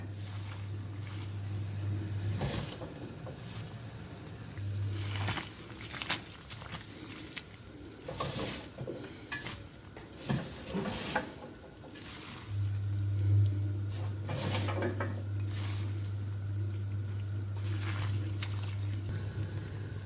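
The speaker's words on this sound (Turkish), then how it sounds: "Kaynayan su içerisine lahanalarımızı ilave ediyoruz." Cabbage boils in a pot of water, bubbling and sloshing, with intermittent splashes and clatters over a steady low hum from a stove or hood.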